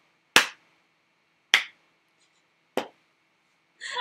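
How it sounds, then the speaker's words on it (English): Four sharp, isolated hand claps spaced a little over a second apart, made to sync audio, each crisp and close with silence between. "I wasn't just clapping. I was syncing the audio."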